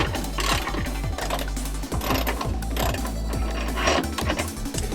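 A hand ratchet clicks quickly and repeatedly while removing bolts from a Tomei Y-pipe under a Nissan 350Z, with close, rhythmic pawl ticks in short bursts and faint metallic handling between strokes.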